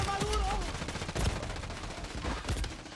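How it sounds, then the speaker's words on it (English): Video game gunfire rattles in rapid, continuous bursts, loud and close, with a voice faintly present beneath the shooting. "he's just shooting me straight through the shield because of desync"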